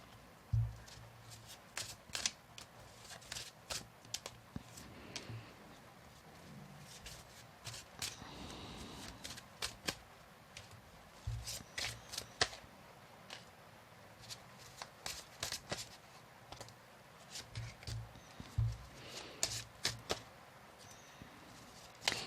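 Cards are riffled and shuffled repeatedly, crisp close-up flutters and taps in bursts, over a soft background hiss of rain.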